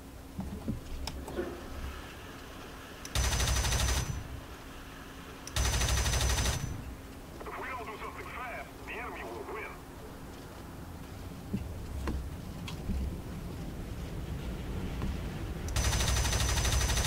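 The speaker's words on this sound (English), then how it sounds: "I'm using my cannon fire to slow me down." Cannon fire from an I-185 (M-82) fighter in War Thunder comes in three short, loud bursts of rapid shots, spaced several seconds apart over a steady engine drone.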